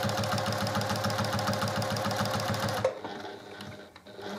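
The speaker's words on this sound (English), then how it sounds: "I'm going to stitch these lines going diagonally from corner to corner" A sewing machine stitches diagonal lines across a quilt, running close and fast with an even mechanical chatter for about three seconds, then stopping. A quieter rustle of fabric handling follows.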